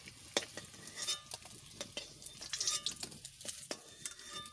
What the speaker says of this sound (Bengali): একদম লাল লাল করে ভেজে নিতে হবে ডিমটা।